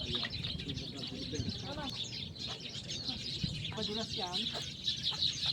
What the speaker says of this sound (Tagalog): nag-i-enjoy po kami kasi naririnig po namin yung huli ng ibon